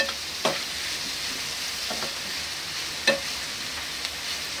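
Onions with salt cook over low heat in a pan, a soft continuous sizzle with a few sharp spatula scrapes and taps spaced a second or so apart; no voices.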